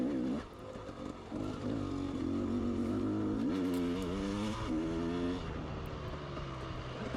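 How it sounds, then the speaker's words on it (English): A dirt motorcycle on a trail TT lap drones steadily close by, its engine rising in pitch as the throttle opens midway, with wind and rough-terrain rumble throughout. "just open that throttle and hopefully the bike will do the rest"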